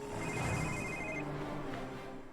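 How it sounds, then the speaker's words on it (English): A cell phone rings in a room of the Miami Airport level of the video game Quantum of Solace, a thin electronic chirping tone over a busy game soundscape with a low rumble. "Our first cell phone is in this room next to this unfortunate gentleman."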